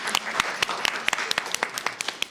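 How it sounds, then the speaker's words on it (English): An indoor community forum audience claps steadily in a dense, continuous round of applause from many hands, close and fairly loud throughout. "Give yourselves a round of applause for making it out in the snow."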